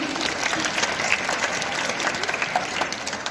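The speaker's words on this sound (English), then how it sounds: "Have a huge round of applause for Reverend Sister CG." A crowd gives a Reverend Sister a hearty round of applause at a farewell event, close and dense clapping that stays steady throughout.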